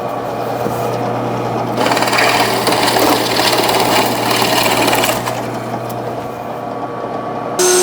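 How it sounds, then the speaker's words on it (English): A drill press hums steadily up close, with a louder, grinding stretch in the middle as the bit cuts into wood, then it winds back down. "let's head over to the drill press and drill that out"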